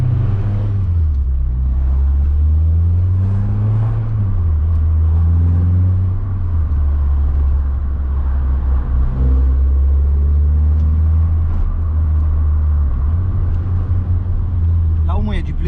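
A Renault Clio Williams with its 2.0 16-valve engine on a road drive, the engine droning and rising and falling in pitch through gear changes and revving, loud and close from inside the car.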